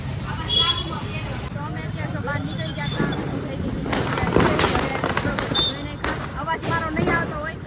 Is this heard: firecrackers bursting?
yes